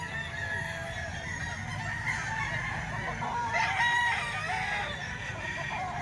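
A stag gamecock crows amid overlapping crowing and clucking from other fowl, steady and moderately loud throughout, with no talk.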